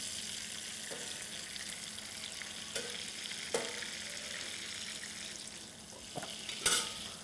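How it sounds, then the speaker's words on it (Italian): Gnocchi sautéing in a small pan of butter flavoured with chopped chives, a steady close sizzle and fry with occasional soft clicks and stirring scrapes, no voices. "Li insaporiamo leggermente nel burro aromatizzato."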